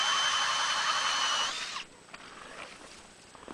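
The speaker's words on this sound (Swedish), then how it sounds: "borrar med en skruvdragare och en adapter till isborren" A cordless screwdriver drill fitted with an adapter drives an ice auger through ice, giving a loud high whirring whine that cuts off partway through, leaving quieter scraping and rustling.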